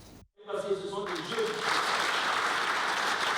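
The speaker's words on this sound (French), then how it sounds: "Que d'acclamations pour saluer la percée mémorable du nouveau temps pour la démocratie" Crowd cheering and applause at a political party celebration marking an election breakthrough, a loud continuous roar of clapping and voices after a brief silent gap, with a tonal voice-like cheer rising at the start.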